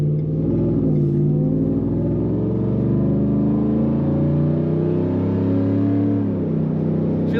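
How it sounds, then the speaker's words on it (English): Customized 2023 Ford F-150 XLT Supercrew 4x4 pickup with an aftermarket throaty exhaust, rumbling steadily and loudly while driving, a deep continuous drone that swells slightly under light acceleration. "A little bit more throaty exhaust for one."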